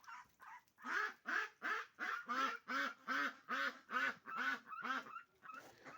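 Ducks quack in a rapid, even series of about a dozen calls, close and fairly loud, with a few softer notes at the start and end.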